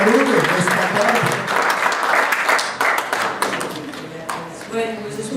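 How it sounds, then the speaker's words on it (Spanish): A church congregation gives a loud, warm round of applause welcoming guests on stage, dense clapping that gradually thins out, with a voice briefly audible near the end. "como los recibimos con un fuerte aplauso"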